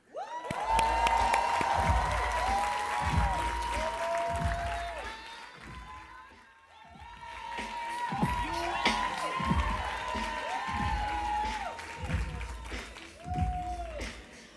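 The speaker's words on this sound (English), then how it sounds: "let's give another round of applause for Casey" Applause and cheering from a childcare convention crowd, sustained clapping with whoops and shouts in two swelling waves separated by a brief lull, with voices calling out over the noise.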